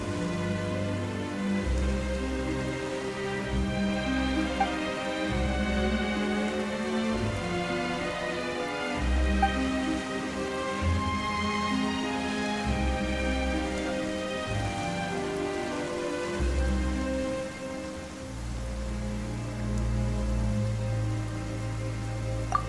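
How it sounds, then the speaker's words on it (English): Steady rain falling in the video game Genshin Impact, a continuous hiss of drops on surfaces running the whole time beneath layered orchestral music. "Why is it raining all of a sudden?"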